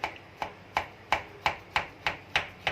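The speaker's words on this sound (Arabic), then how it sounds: "نبدا نقطعها سكينه حاميه" Sharp knife chopping through rolled stuffed cabbage leaves, nine crisp evenly spaced cuts striking a board in a steady rhythm, close and clear with no voices.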